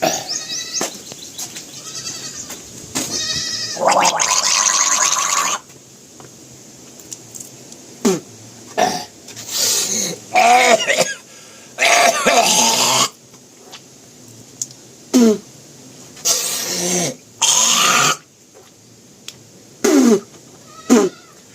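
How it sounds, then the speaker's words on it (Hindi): Someone repeatedly hawks and clears their throat in harsh, rasping bursts, spitting out oil between the quieter pauses. "जितना तेल हमने लिया था वो मुंह से निकाल दिया।"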